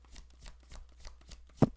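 Tarot cards are shuffled in a quick run of soft riffling flicks at an even pace, ending with one sharper slap as a card is drawn, close and quiet with no talk.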